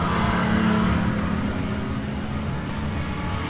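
A V6 Holden stockcar engine revs hard during qualifying at a New Zealand stockcar teams championship, a loud, steady, continuous motor roar that holds close throughout with no pauses.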